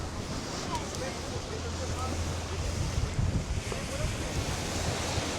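Wind buffets the microphone at the harbor on Agkistri island, Greece, with waves washing in a steady rush and faint voices underneath.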